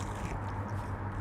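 Crunchy battered fish and chips bitten into at close range, a brisk crisp crackle with light chewing over steady low background hum, no talking.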